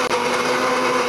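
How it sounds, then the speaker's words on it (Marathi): A mixer grinder whirs steadily at close range, blending carrot, beetroot, cucumber and tomato with water in a juicer jar; the motor drone is loud and continuous, with no talking. "आता इथे मी 2 ग्लास पाणी घातलेलं आहे ज्यूसर जारमध्ये आणि आता आपण हे बारीक करून घेणार"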